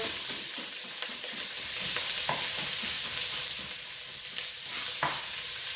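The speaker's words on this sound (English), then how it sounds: "we're just going to cook these down until they caramelize a little bit" Peppers, onions, carrots and fresh garlic sauté in extra virgin olive oil with a steady, bright sizzle, broken by occasional stirring scrapes and light taps of a utensil against the pan.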